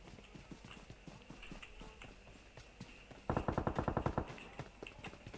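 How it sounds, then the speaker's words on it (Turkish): Running footsteps of a player character in the battle-royale shooter PUBG Mobile, a quick, steady series of thuds, then louder, denser steps that come in closer near the end. "Evet bir ayak sesi duydum."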